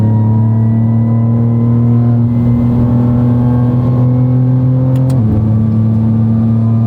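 BMW M2 CS held at full throttle on the Nordschleife, a loud, steady in-car engine drone with a rising pitch that drops briefly as the gear changes, then carries on.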